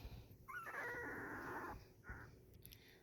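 A two-week-old puppy whimpers close by, a drawn-out high whine followed by a shorter second cry, over faint background noise and with no talk.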